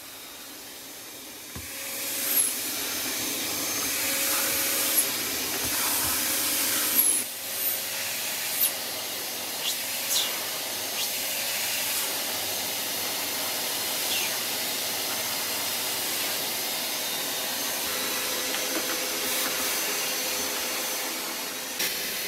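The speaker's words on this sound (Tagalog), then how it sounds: "nasisip-sip ng vacuum yung matigas na dumi." A Black+Decker vacuum cleaner sucks up hard dirt in a laundry room, a steady loud whooshing drone with scattered ticks and rattles of debris pulled through the nozzle, running continuously throughout.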